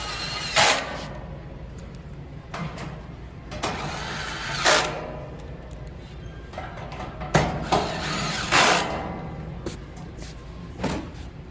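A power drill drives screws into a Weber Genesis II S-435 BBQ stand in several short whirring bursts separated by pauses, close and moderately loud, with no talking.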